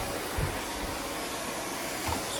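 A Kenmore 400 Series canister vacuum picking up popcorn gives a steady, loud, close airy roar, with brief rattling bumps that are likely kernels being sucked in.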